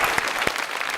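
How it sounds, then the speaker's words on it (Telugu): Audience applause rings out briefly in a loud, dense burst of clapping from a crowd, with no voices over it. "చప్పట్లు."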